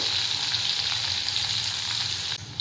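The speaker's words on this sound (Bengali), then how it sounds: "আমি ক্যাপসিকাম দিয়ে দিলাম, এটাকে 1 মিনিট ফ্রাই করে নেব।" Capsicum frying in a hot pan for pasta sauce, giving a steady, dense sizzle that holds at even loudness throughout and eases slightly near the end, with no talking.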